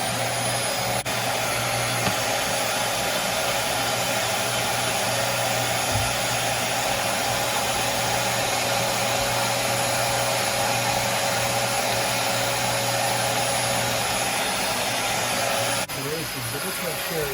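A Dyson DC40 Animal upright vacuum cleaner motor drones steadily and loudly throughout, a constant whine with no pauses, cutting off near the end.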